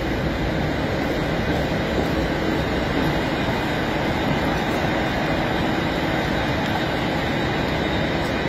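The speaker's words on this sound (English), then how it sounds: "So it's quite a big railway station." A steady, loud rumble of a train passing through a large station, with continuous low roaring and rolling noise and no voices.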